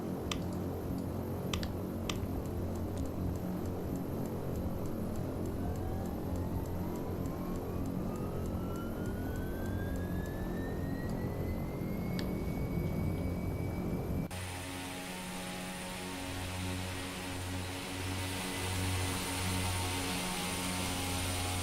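Left turboprop engine of a Carenado B1900D starting in X-Plane 11: a rising whine that climbs steadily over several seconds, then settles into a constant loud drone with tonal hum.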